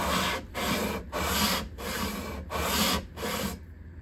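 The neck of a 1953 Gibson L-50 guitar is planed flat by hand, giving six close rasping strokes in an even rhythm, each separated by a brief pause.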